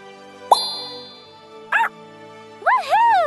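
A cartoon puppy from Bubble Guppies gives a pop-like plop, then a short yip and a longer sing-song bark-whimper, close and clear over a faint musical backing.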